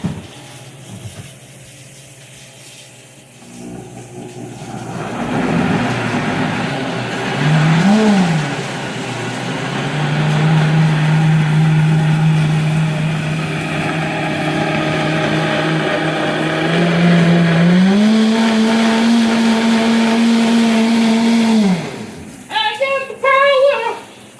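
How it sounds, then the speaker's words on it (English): Kitchen blender grinding birria sauce of chicken stock and other ingredients, a loud motor hum that whirs up, holds a steady drone, then climbs in pitch at a higher speed before stopping, followed by a few clatters. "Put it on my blender."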